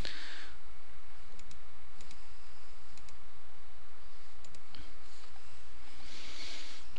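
Computer mouse clicks while working in SPSS statistics software: several sharp, quiet clicks spaced a second or so apart over a constant hum of room noise, with no talking.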